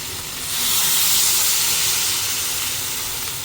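Water poured into a pan of frying carrot and cauliflower vegetables sets off a loud steady hiss of sizzling and steam that swells quickly and then slowly fades.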